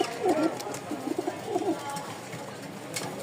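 Racer pigeons give two soft, rolling coos early on, close by, with a faint background hiss in between.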